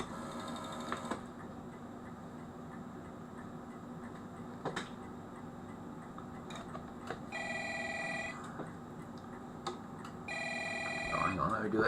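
An old telephone bell rings in two short bursts after dialling, fairly quiet and close, set against a low steady hum with a few faint clicks between.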